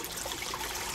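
Water trickling and streaming steadily into a small homemade aquaponics tank as it fills, a soft continuous splashing flow heard close up with no voices.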